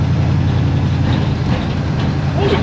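A 1957 Chevy Bel Air on its first drive in years rumbles steadily at low speed in second gear, its engine and exhaust a deep constant drone with a possible banging, while people talk over it.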